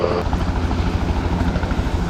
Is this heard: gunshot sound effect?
no